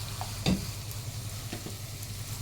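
Onions fry and sizzle in a pan while a spoon stirs them, giving a close, steady crackle with a few soft scraping clicks.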